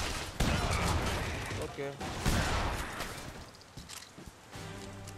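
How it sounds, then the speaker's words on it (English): Gunfire in The Saboteur, a fairly quiet, distant-sounding stream of shots and bursts with a few sharper cracks, while someone briefly speaks over it. "Who's shooting at us, bro?"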